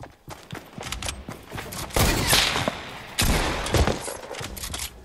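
Shotgun fire in Fortnite: repeated heavy blasts with booming low ends, a few loud shots spaced about a second apart amid continuous gunfight clatter, close and punchy.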